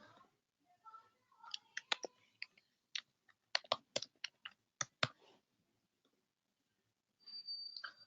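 Computer mouse clicking during a web task, a sparse run of sharp, close clicks in irregular bursts, with a short stretch of speech at the end.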